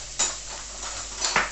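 Vegetables sizzling and being stirred in a hot pan for a winter chilli, with a couple of brief scraping stir strokes over a steady low fry hiss, close by.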